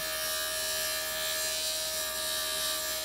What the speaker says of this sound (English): So I'm only grinding the top to kind of, so that I'm grinding a little bit so it's not as bumpy.